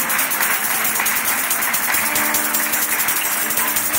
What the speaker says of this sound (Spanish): Demos un fuerte aplauso al joven